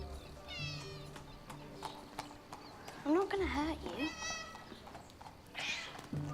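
A cat meows several times in drawn-out calls in a Game of Thrones episode scene, mixed with overlapping dialogue and reaction chatter at low volume.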